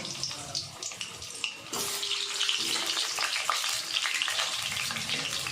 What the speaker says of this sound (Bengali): আলুগুলো ভালো করে ফ্রাই করে নেব